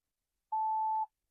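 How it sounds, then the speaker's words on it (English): A single short electronic tone of about half a second sounds clean and alone: the preset confirmation beep of a 2026 Subaru Forester radio on FM after the button is held. "until you hear that beep, and that's going to be a preset station"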